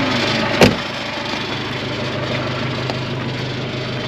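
A motorbike engine hums in a forest in East Kalimantan, a steady, low, droning tone that carries on without letup, with a single sharp knock near the start.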